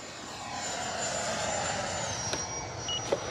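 An FMS F-86 Sabre 80mm electric ducted-fan RC model jet flies in windy conditions, giving a steady, loud whooshing whine that holds throughout, with a slight pitch shift partway and a couple of brief clicks near the end.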